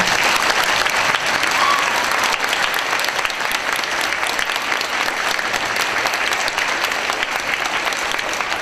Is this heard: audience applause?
yes